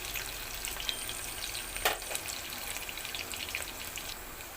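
Chopped onions fry in oil for an aloo chana curry with a soft, continuous crackle. One brief stir or clatter stands out midway, and the whole sound is faint.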